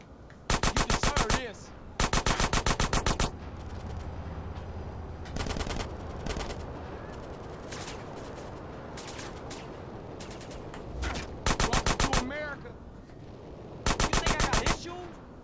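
Bursts of automatic gunfire in GTA San Andreas: Definitive Edition, several loud rapid-fire volleys spaced across the stretch, with quieter game ambience and scattered shots between them.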